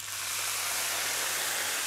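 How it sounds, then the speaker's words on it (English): Rice in duck fat, just deglazed with white wine, sizzles in the pan with a bright, steady hiss that stays loud and unbroken throughout. "A good sizzle on that."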